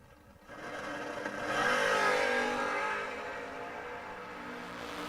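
Drag race launch of a red Camaro and a black Malibu at a memorial race, engines swelling quickly into a loud revving roar that peaks and then eases into a sustained high drone as the cars pull away.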